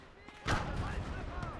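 A whooshing, whistling rush as a shell flies past, starting with a sudden loud swell and then trailing off into a sustained airy hiss.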